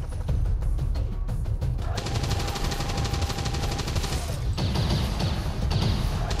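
Heavy, continuous automatic gunfire and shots in XCOM 2 Long War 2, loud throughout, with sharp separate cracks early on that build into a dense, sustained volley with explosive impacts.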